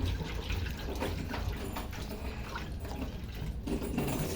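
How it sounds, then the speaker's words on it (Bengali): Water is released into a drum while corn is being prepared for fermentation, producing a steady rushing, splashing pour at moderate volume for a few seconds. "এখন আমি এই ড্রামের ভিতরে এই যে ড্রামের ভিতরে পানিগুলো ছেড়ে দিতেছি"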